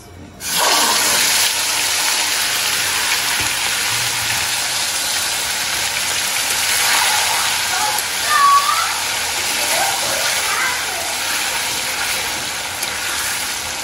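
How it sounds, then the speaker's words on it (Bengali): Ginger, garlic, garam masala, salt and a little soy sauce hitting hot oil in a home kitchen: a sudden loud, steady hiss of frying that starts abruptly and continues close and unbroken, with a brief clatter partway through. "এখন এটা ভাজবো।"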